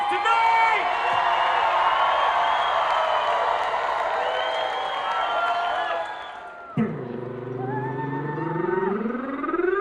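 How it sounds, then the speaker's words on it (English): A restaurant crowd at a burger bash claps, cheers and whoops for the chef, loud and sustained; after a brief dip, the clapping drops and chatter and whooping voices carry over. "a big, fat round of applause for our chef tonight"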